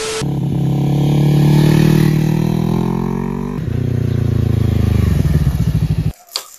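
An FKM Falcon 400X, a 400cc motorcycle, revs loud and close on a test ride, holding a steady drone, then dropping and climbing again before the engine note cuts off abruptly near the end.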